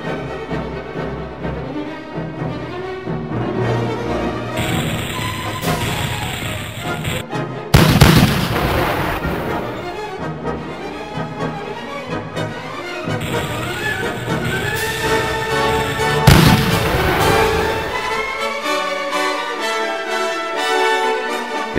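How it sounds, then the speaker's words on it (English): Cannon fire in an animated battle film plays over a loud orchestral score, with two heavy booming blasts several seconds apart standing out from the dense music. "Fire the cannon again."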